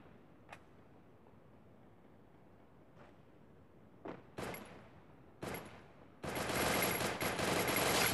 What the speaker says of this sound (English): And he is shooting at me.